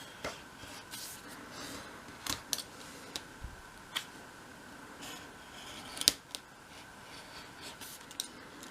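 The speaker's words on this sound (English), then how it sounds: "put a little bit more pressure on, and you should start cutting through" A blade presses down and cuts through wooden strips on a small kitchen room box model, heard as faint, scattered clicks and scrapes with quiet pauses between them.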